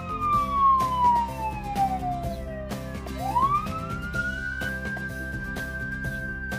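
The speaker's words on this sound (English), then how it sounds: "Police car." A police car siren wails close and loud, one long falling tone that swoops back up and holds high, over a layer of light background music.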